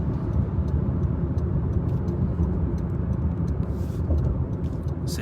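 A 2020 Honda City with a fully refitted AZC exhaust and fresh tune rumbles steadily at close range, a deep continuous engine drone holding without breaks.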